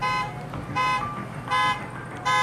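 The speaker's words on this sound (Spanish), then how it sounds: "escucha la alarma." A parked car's alarm blaring in repeated short electronic bursts, loud and close, pulsing about every three quarters of a second with no voices.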